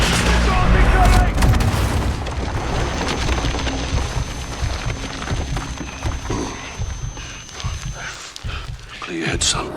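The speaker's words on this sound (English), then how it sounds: "Missiles incoming!" Explosions from incoming missiles in the Call of Duty Modern Warfare video game, a loud dense rumble of blasts and gunfire heaviest at the start, then fading into scattered bursts and debris.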